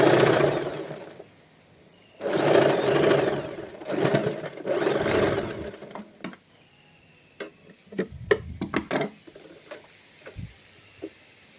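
Sewing machine stitching frock fabric in straight runs, a steady rapid stitching burst followed by quieter pauses, clicks and scattered taps from handling the machine and cloth.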